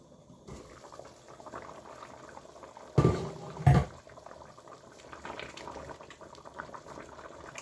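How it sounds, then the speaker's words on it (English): Octopus stew with potatoes in a lidded pot, a low steady bubbling boil close by, broken by two brief louder knocks or clatters near the middle. "comes to a boil, and I'm going to let it cook the potatoes for another 20 minutes"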